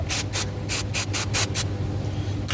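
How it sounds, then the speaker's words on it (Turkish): Cleaning spray is squirted onto a brake hydraulic hose fitting on a Fiat during a hose replacement: a quick series of short, sharp hissing bursts, then a pause and one more burst, all over a steady low hum. "sprey sıkıyoruz"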